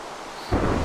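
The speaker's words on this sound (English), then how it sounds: "now it's thunderstorm" A low rumble of Minecraft thunder rolls in abruptly partway through, loud and broad after a quieter hiss, during an in-game thunderstorm.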